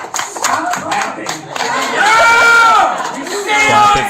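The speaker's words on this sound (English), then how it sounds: "Stop clapping." An audience at a stand-up comedy show claps and cheers in a loud, sustained wave, with shouting voices rising over the applause throughout.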